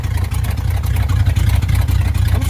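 An old International pickup truck's engine idles loud and close in a steady, rough, chugging rumble that never lets up.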